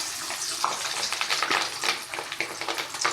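Fish roe frying in hot oil with garlic and garam masala, a steady bright sizzle with crackling pops throughout, close and fairly loud, no voices.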